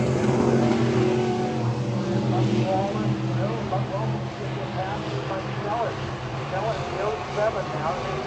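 E-Mod race cars roaring around the oval at Lakeside Speedway, a steady loud drone of engines throughout with a commentator talking over it.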